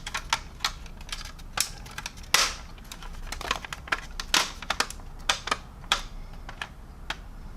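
Plastic parts of a 1/48 Minibase SU-33 model kit snap together as the main fuselage sections are joined, giving sharp, close, irregular clicks and taps with no talking.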